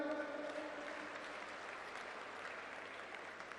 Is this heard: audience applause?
yes